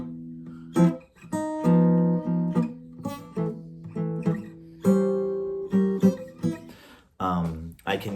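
A 2-5-1 chord progression played on a stringed instrument: a run of plucked chords, each ringing briefly and then fading, with clear gaps between them, played close and alone with no talking.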